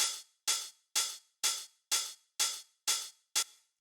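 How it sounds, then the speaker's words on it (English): Eight crisp, bright drum-machine hi-hat hits in a clean 909 style, in a steady even rhythm, each short and hissy, played alone and close. "it's just kind of like a clean 909 style hi-hat"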